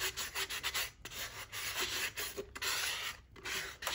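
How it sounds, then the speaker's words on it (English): A fine grit sanding block rubs around the edge of a resin glitter tumbler, giving steady close raspy strokes with brief pauses between passes. "I'm just going to take a fine grit sanding block and I'm just going to sand around the edge"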